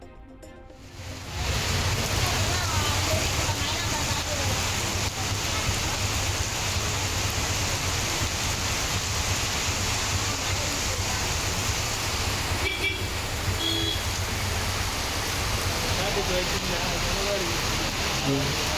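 Heavy rain over Chennai and its suburbs makes a dense, steady hiss. It swells to full loudness after the first second and pours on without a break.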